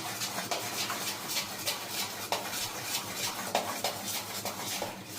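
A spoon scrapes and clinks against a metal bowl while idli batter is mixed for instant dhokla, a fairly faint run of quick irregular taps and scrapes.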